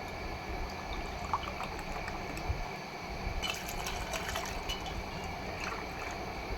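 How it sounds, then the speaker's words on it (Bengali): Water being drawn from a clay water filter in a home kitchen while making lemonade, a quiet steady trickle into a container with faint splashy droplets in the second half, no talking. "এই যে মাটির ফিল্টার থেকে জল নিব"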